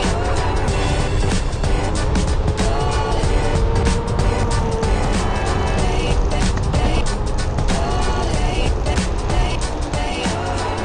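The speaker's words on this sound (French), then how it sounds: "attention, c'est une voiture qui monte" A car climbs a snowy mountain track, heard as a steady, loud rumbling drive with crunching and rattling over rough ground, continuous throughout.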